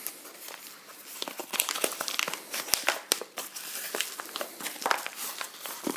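Paper wrapping around the extruder of a Prusa i3 Hephestos 3D printer kit crinkles and crumples during unboxing, a busy run of close, dry rustles and crackles with no speech.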